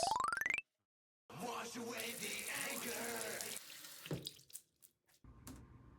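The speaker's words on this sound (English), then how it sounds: "Remember, kids, always wash your hands." Hands washed under a running tap, water streaming and splashing for a few seconds after a short tonal beep and silence, then stopping with a few drips and faint handling sounds, close and without talk.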